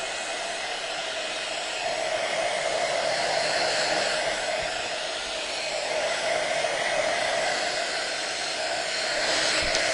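A heat tool blows steadily to dry the edges of a painted mixed-media piece, making a loud, close, continuous whooshing roar with hiss that runs unbroken for several seconds, with no talk.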